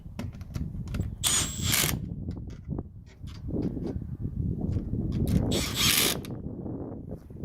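A power drill drives fasteners on Pylex under-deck storage drawers in two loud, whining bursts, with clicking and ratcheting handling noise close by in between.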